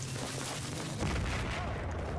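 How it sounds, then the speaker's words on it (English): A heavy explosion in the video game Battlefield 4 swells up about midway through, a broad low boom that thickens the steady rumble of distant gunfire and battle noise. "Big explosion."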